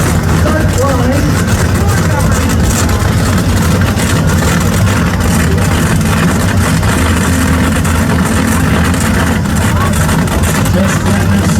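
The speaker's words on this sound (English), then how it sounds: "Side by side monster truck racing. Flying down between the cars. Bring up to the start line." Monster truck engines at a side-by-side race start line rumble with a steady, loud low idle that holds throughout, thick and continuous with no clear rev peaks, while voices talk over the din.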